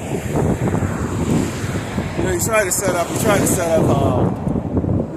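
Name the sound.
wind blowing outdoors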